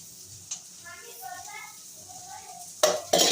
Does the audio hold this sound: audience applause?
no